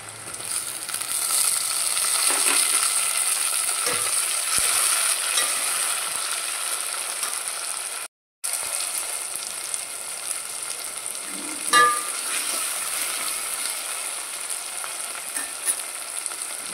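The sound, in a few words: tomatoes added and frying in pan for bottle gourd sambar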